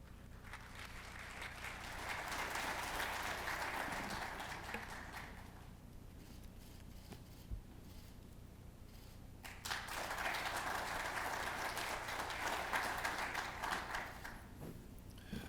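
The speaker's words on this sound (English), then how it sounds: "Please welcome Mr. Del Corso with warm rounds of applause." Audience applause at an opening ceremony of the 2022 Asan Symposium, welcoming speaker Christopher Del Corso: steady broadband clapping for about five seconds, a quiet gap, then a second burst of applause, moderately distant in a large hall.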